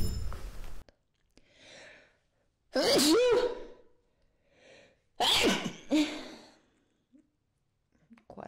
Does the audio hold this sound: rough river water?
no